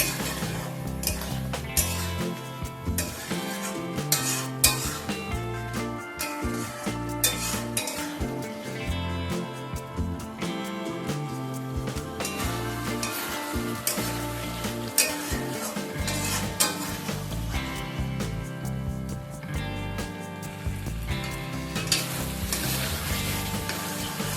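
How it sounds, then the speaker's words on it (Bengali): Potatoes and ridge gourd with poppy seed paste stirred in a frying pan, steady sizzling under constant scraping and clinking of a spatula against the metal pan, close and busy throughout. "এবার অল্প কিছু সময় নিয়ে পোস্তর সাথে আলু আর ঝিঙেটাকে একটু নাড়াচাড়া করে নেব।"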